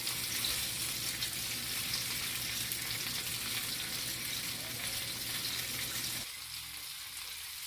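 Bell peppers being stirred around in a hot frying pan give a soft, steady sizzle and crackle from close by, the sound dropping away and quieting near the end as the heat eases.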